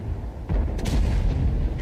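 Tank cannon fire from a tank combat video game, M103 heavy tank in the fight: a heavy booming shot around the middle, with continuous low rumbling battle noise and further distant bangs throughout.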